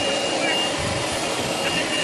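A hair blow dryer drying someone's hair gives a steady, loud, close whooshing roar that stays constant throughout, with no clear breaks.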